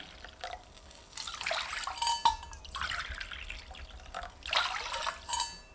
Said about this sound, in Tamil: அதே கப்பில் 3 கப் அளவுக்கு தண்ணி விட்டுக்கலாங்க